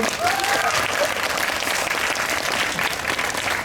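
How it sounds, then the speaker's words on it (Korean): A Korean film stage-greeting audience in a cinema applauds steadily throughout, a loud continuous wash of many hands clapping with no talk over it. "박수 한번 주세요."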